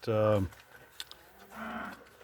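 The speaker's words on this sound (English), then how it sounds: "I'm out here with the cattle in the heavy use area" Cattle in a muddy heavy use area: one loud, close moo opens, followed by faint clicks and a quieter, more distant lowing moo.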